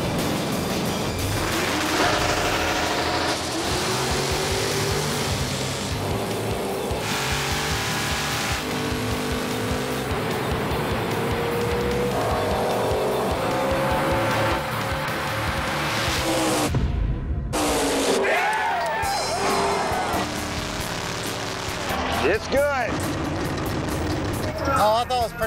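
Drag race cars, including an orange Chevy Nova, accelerating hard down the strip, a loud sustained engine roar with a brief cut near the end and voices mixed in.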